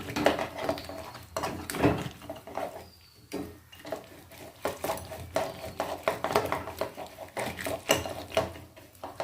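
Boiled moong dal being mashed in a cooking pot, with repeated soft scraping, thudding and knocking strokes in an uneven rhythm, close and moderately loud, with no talk.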